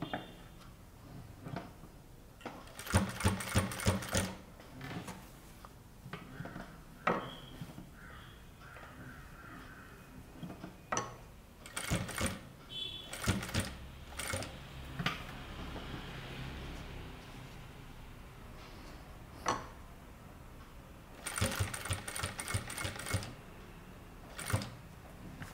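A sewing machine stitches a garment placket in short rapid bursts, with quiet pauses and faint handling noises between the runs.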